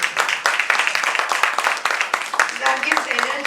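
Applause from an audience at a book launch celebration: a dense wash of clapping hands, steady and fairly loud, with voices mixed in under it.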